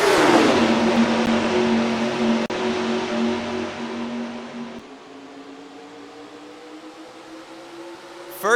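Race cars in the NASCAR Racing 2003 video game during a 45-lap race at Hillside: a loud engine roar with a sustained droning pitch that fades and settles lower, then a fresh burst at the end.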